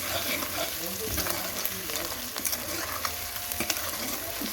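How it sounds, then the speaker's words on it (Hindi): Steady crackling sizzle of garlic-ginger paste frying in hot oil for karela gosht, with scattered stirring scrapes and clicks close by, no voices. "इसको अच्छे से 1 मिनट तक भूनेंगे"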